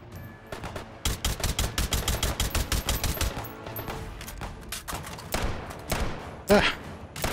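Rapid automatic gunfire in the VR shooter Hot Dogs, Horseshoes & Hand Grenades, sharp repeated bursts of shots in quick rhythm, then scattered single cracks and a louder thud near the end.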